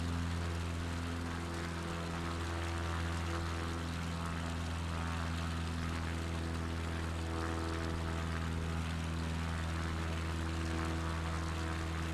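Steady propeller-plane engine drone from a bush plane in a flight simulator game, a continuous loud hum with strong low tones holding evenly throughout, no talking.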